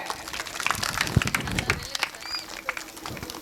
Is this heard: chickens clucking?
no